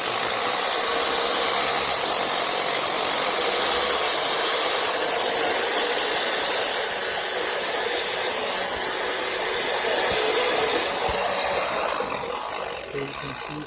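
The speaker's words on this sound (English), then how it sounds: "I use this grinder to make a little" A grinder tapers the end of a wood dowel, its steady high-pitched whine and abrasive hiss running loud and unbroken for most of the span before easing off near the end.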